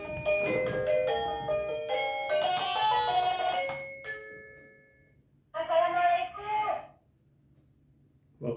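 A wireless battery-free doorbell plays a chime melody indoors, two bursts of bright ringing tones separated by a short pause, with a faint start of a third at the end.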